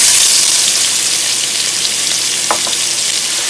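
Onions frying in leftover hamburger fat in a hot pan over medium-high heat, a steady close bright sizzle throughout with a brief clink or stir near the end, no talking.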